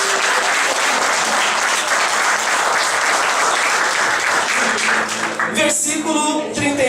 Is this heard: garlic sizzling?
no